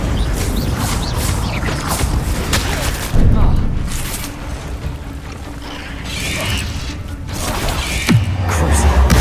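Confringo and Bombarda spell blasts in Hogwarts Legacy, a sharp crash near the three-second mark amid ongoing rumbling and clattering combat noise, with a voice casting spells throughout.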